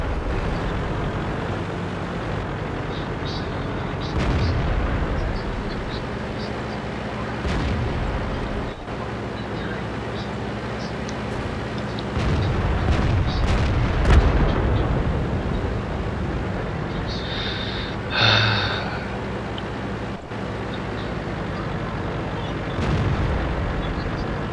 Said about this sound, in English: Oh shit, yep, there's artillery.